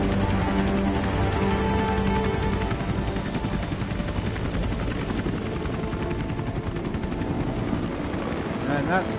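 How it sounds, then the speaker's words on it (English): A helicopter flying in Metal Gear Solid V, a loud, continuous rotor thrum with rapid chopping blade pulses and engine whine, steady and close from start to finish. "And that's my chopper."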